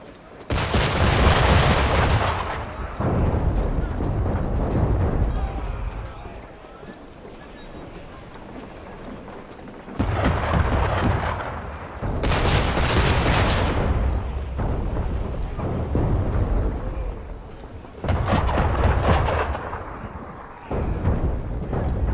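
Heavy cannon fire booms during naval combat in Assassin's Creed III Remastered, with several loud, broad blasts over steady wind and rushing sea noise.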